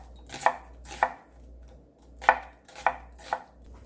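A knife slices half an onion on a cutting board for a Korean chive and lettuce salad, giving five sharp, separate chops in an uneven rhythm, close and clear with no talking.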